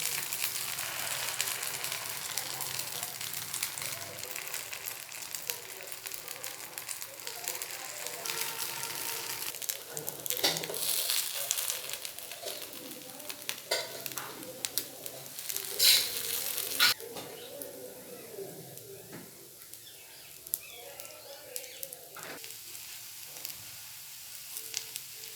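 Sola paniyaram batter sizzles in oil in a paniyaram pan, a steady hissing fry that runs throughout with occasional clinks and stirring, while birds coo faintly in the background.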